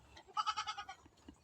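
A goat bleats in a short wavering call, fairly close and moderately loud, with a quieter sound following and no talking.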